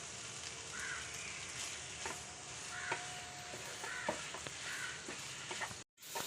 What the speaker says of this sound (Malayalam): അവസാനമായിട്ട് കുറച്ച് കറിവേപ്പിലയും കൂടെ ചേർത്ത് കൊടുക്കണം